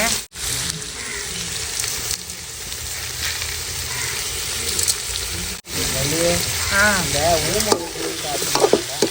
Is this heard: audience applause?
no